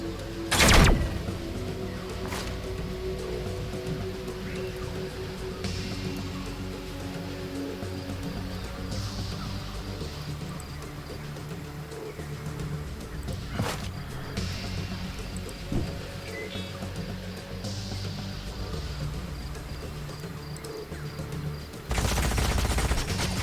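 Gunfire volley from units in the strategy video game Age of Wonders: Planetfall, a sustained crackling barrage of rapid shots lasting the whole stretch, with sharper loud bursts at the start and near the end.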